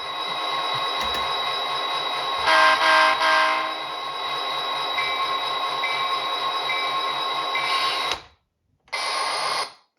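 An Athearn EMD SD40-2 model locomotive with onboard sound plays a sustained diesel drone with tonal horn blasts, cuts out briefly, then resumes.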